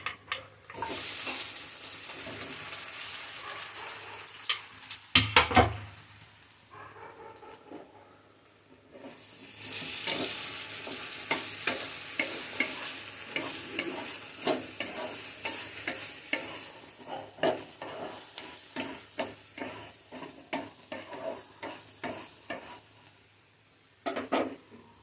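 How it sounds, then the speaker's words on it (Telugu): Eggplant pieces fry in a pan for a red-chilli vankaya kura, with a steady hiss and repeated scraping and clinking of a spoon stirring them, close up and moderately quiet. "ఇప్పుడు ముందుగా కట్ చేసుకున్నటువంటి వంకాయ ముక్కలు వేసుకుందాం."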